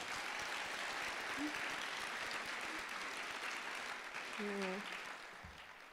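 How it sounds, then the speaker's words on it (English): Faint, steady applause fills a high school graduation hall for the live stream crew, continuous and distant, with a brief voice near the end. "So can we get a quick round of applause for them,"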